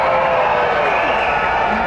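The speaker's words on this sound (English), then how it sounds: "I need all of you to clap, cheer, whistle, make a lot of noise" A large theme-park crowd at the Indiana Jones stunt show in Disney's Hollywood Studios roars continuously, cheering and clapping loud and dense with no break, as if in a packed outdoor arena.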